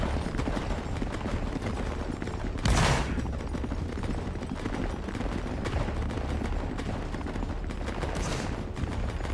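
Dense, continuous rifle fire from a video game battle fought with needle guns, a steady rattle of overlapping shots throughout with one louder, sharper burst near the start.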